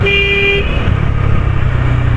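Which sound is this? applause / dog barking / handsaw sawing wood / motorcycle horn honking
motorcycle horn honking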